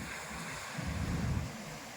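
Large sea waves roll in under rain off Phuket island in Thailand, a steady broad wash with a swelling surge in the middle, mixed with wind noise on the microphone and no talking.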